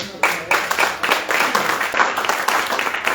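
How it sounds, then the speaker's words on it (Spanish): An audience claps and applauds at a book presentation event, a steady burst of many hands clapping close by for a few seconds. "Aplausos para ustedes."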